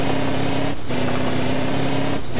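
A loaded Scania R Topline 6x2 semi truck in Rigs of Rods gives a loud, steady droning engine note, broken by two brief dips as it shifts gears.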